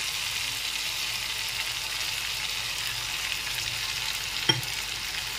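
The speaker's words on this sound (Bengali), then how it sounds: "এখন মশলাটাকে ভালো করে একটু কষিয়ে নিতে হবে।" Ginger garlic paste fries in hot oil for a tilapia fish curry, giving off a steady, even sizzle and crackle with one sharp clink of a utensil near the end.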